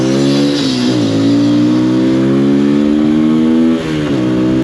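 An MGB ATX 125 adventure motorcycle runs steadily close by under a rider, its small single engine holding a constant drone with brief dips and rises in revs, alone without talk.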